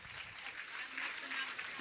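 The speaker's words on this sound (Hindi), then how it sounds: "मैं चाहूंगा आप लोग इनका स्वागत ताली बजाकर करें। आप सदन पूरा ताली बजाएगा।" An audience in a hall claps to welcome and honour a guest at a religious discourse. The applause is steady and fairly faint, swells slightly toward the end, and runs throughout without breaks.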